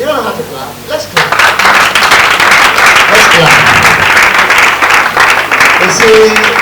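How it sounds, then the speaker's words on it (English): A large audience claps in a loud, continuous burst that starts after a brief quieter moment and keeps going, with voices mixed in beneath the clapping. "Let's clap."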